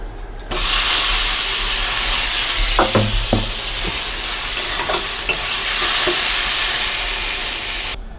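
Chana dal is tipped into a hot pan of spiced oil and stirred, giving a loud, steady sizzle and hiss throughout, with a few scraping clatters of the spoon partway through and no voices.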